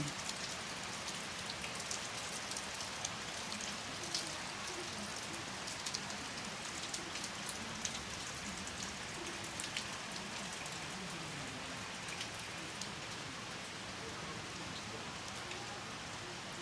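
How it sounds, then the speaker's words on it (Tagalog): Steady heavy rain pours down onto surfaces at a nature resort, including a shed and solar panels, a dense continuous hiss with scattered drips and patters, constant throughout. "Patila muna tayo saglit ng ulan kasi ang lakas eh"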